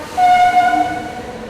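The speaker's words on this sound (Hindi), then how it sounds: "RKMP स्टेशन स्किप करने वाली कोई ट्रेन जा रही है" At Bhopal station a freight train skipping the stop gives a short, loud horn blast lasting under a second, followed by the fading rumble of the train nearby.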